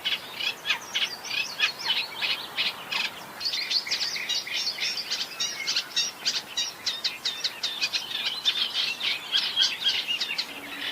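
A Great Reed Warbler sings from tall wetland reeds, giving harsh, churring, repeated notes in quick bursts, steady and fairly close throughout.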